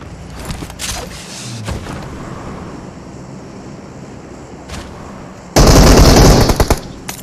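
Close, loud burst of automatic gunfire in the mobile battle royale game PUBG Mobile, erupting near the end over a background of wind-like ambience and scattered earlier distant shots.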